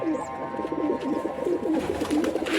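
A pigeon cooing softly in a loft, a low, rolling warble repeated several times at close range over faint background noise.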